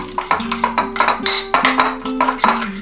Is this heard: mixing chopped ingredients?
yes